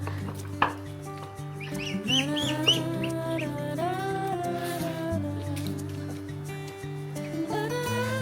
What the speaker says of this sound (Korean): 왼쪽에 보니까 오리하고 병아리가 놀고 있는 게 아니겠어요?